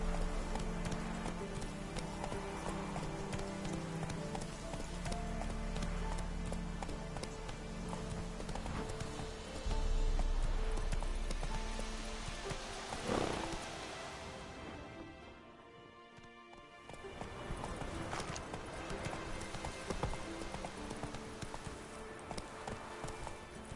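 Roach the horse gallops in The Witcher 3: Wild Hunt, rhythmic hoof clip-clops running steadily under rain and game ambience, briefly thinning out near the middle before resuming.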